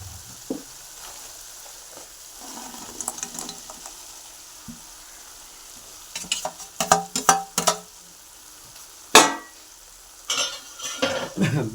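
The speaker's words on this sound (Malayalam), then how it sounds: "നമുക്ക് ബീഫ് വറുത്ത് വെച്ചിരിക്കുന്ന ബീഫ് ഇതിലേക്ക് ഇട്ട് കൊടുക്കാം" Fried beef goes into hot vinegar for beef pickle, with a soft background sizzle building into bursts of louder crackling, clattering and stirring scrapes in the pan.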